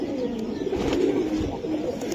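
Pigeons coo in soft, overlapping low murmurs, close by and continuous, with a faint background hum and no clear voices.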